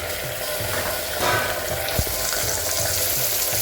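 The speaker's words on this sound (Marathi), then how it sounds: "आता मस्त फ्राय करून घेऊ, म्हणजे एकजीव करून घेऊ पूर्ण." A kilo of mutton fries in a pot for biryani with a dense, continuous sizzle, plus a sharp knock of a stirring spoon partway through.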